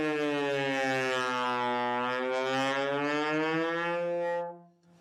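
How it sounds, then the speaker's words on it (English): A trombone plays a slow slide glissando, one sustained brassy tone smearing gradually downward and back up over several seconds, then fading out. "you can make this smearing noise called a gliss"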